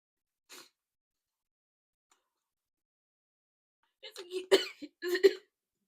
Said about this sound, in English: It's a cough that just won't go away.